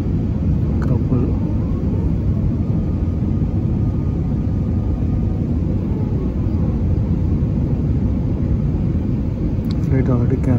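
Inside an Emirates jumbo airliner landing on a Bangkok to Hong Kong flight, a loud, steady low cabin rumble and engine roar fill the space without a break.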